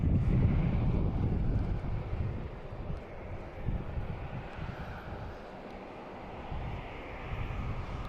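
An airliner rolls for takeoff at Boston Logan International Airport, a steady heavy engine roar with wind rumble that stays loud and continuous, easing slightly midway before building again.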